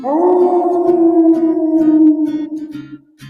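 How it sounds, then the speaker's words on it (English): A single loud, sustained wolf howl rises and then slowly trails off, close and clear, as a cartoon sound effect in a Little Red Riding Hood story for kids. "even a big bad wolf"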